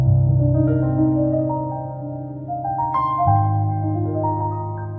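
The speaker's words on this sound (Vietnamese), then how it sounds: "Đây là tiếng đàn grand piano này." A grand piano voice on an SX700-SX900 electronic keyboard plays a flowing demo passage of ringing chords and melody notes, loud and close, with no voices over it.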